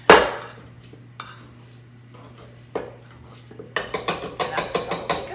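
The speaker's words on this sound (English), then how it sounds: "I just like to use a potato masher to mash them" A potato masher pressing into a bowl of cookie dough, a few scattered clanks, then a quick series of rhythmic knocks near the end, close and without talk.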